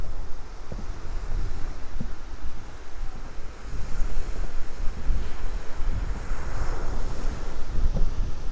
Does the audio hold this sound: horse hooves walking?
no